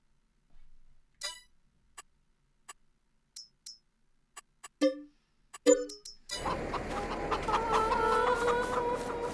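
Farming Simulator 22 chickens cluck in short scattered bursts from several birds, then a steady, busier barnyard clucking takes over for the last few seconds.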